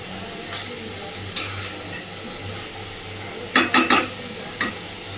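Prawns and potatoes being stirred and fried in spices in a pan, with scattered metallic scrapes of a spoon against the pot and a quick cluster of clinks near the end over a faint low hum.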